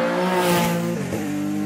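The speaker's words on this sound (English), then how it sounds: "normally aspirated Porsche engine, absolutely a beast of a car. Leaves the line, sounds magnificent." A normally aspirated Porsche-engined hillclimb race car with flared arches and a Group 6 style rear tray pulls away at Shelsley Walsh, its loud, close engine holding a steady harmonic note before the pitch shifts as it accelerates hard.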